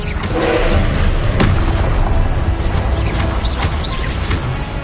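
A Confringo spell explodes in Hogwarts Legacy as a loud, dense booming rumble that fills the whole stretch, with crackling debris and a sharp crack near the middle.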